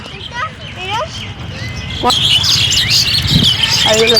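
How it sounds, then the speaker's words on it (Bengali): Birds chirp and tweet repeatedly in the open air, some calls close and sharp, while people chatter nearby; a metro train passes overhead and goats are nearby. "পাখি ডাকছে"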